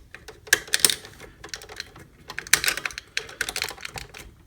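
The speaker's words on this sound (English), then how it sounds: "Yeah, he's got the articulation. Forward, back, nice clicky joints." Joints on a FansToys FT-08 Grinder transforming robot figure click and ratchet as they are moved, coming in quick close bursts of sharp plastic clicks with short pauses between them.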